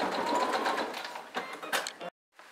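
A sewing machine stitches a backstitch at the end of a seam on a transparent toiletry pouch, running in short close bursts of rapid whirring before stopping abruptly.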